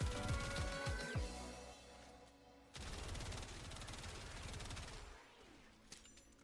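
Gotva Prime rifle in Warframe firing cold and corrosive rounds in rapid automatic bursts, loud and close, with a sharp break partway through before another dense volley of shots and impact effects.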